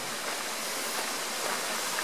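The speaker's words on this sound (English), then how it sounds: "Bit of a creek running down there, it's quite nice." A creek runs steadily below a bushwalking track at Wilsons Promontory, a soft, even hiss of flowing water heard faintly from a distance with no other sounds.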